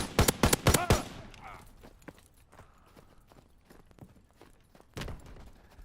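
Rapid burst of gunfire in Call of Duty: WWII, several loud close shots packed into the first second, then quieter scattered shots and game noise continuing at a distance.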